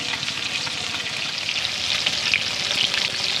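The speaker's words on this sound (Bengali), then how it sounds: "এই কাঁটা চচ্চড়ির কাঁটাগুলো না খুব ভালো করে ভেজে নেবেন" Bhetki fish bones fry in hot oil for a Bengali kanta chorchori, giving a steady, close crackling sizzle with bright spitting pops and faint stirring throughout.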